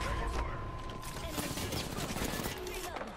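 Gunfire from behind in Apex Legends, rapid bursts of automatic shots crackling densely over mechanical clatter, moderately loud throughout the short stretch, with no talk.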